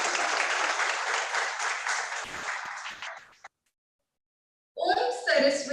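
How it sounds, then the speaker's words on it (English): Audience applause at a college orientation program for a new batch, dense and steady for over three seconds, then cutting to silence before a voice begins near the end. "A big round of applause for all the August gatherings."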